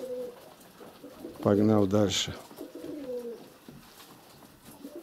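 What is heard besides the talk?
pigeons cooing during courtship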